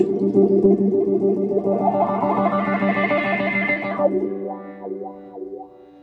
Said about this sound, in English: I might actually add a little reverb in this case and do like a, a quick uh, wash.